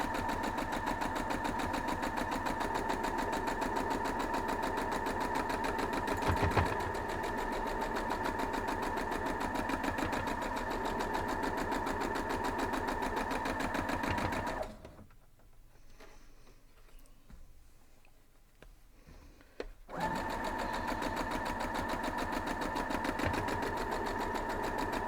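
A sewing machine stitches a quilt block with a fast, steady mechanical whir and tick, running loud and continuous, then stops for about five seconds of quiet handling before resuming at the same even pace.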